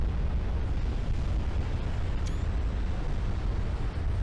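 A deep, rumbling naval shell hit and explosion aboard a warship in Ultimate Admiral Dreadnoughts, from a 16.9-inch gun penetration that starts a fire, heard as a dense, continuous low roar without a sharp onset.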